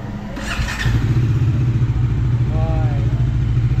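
A newly delivered motorcycle, its engine idling steadily and close by at a dealership handover, a low even putter that rises after a moment, with people talking over it.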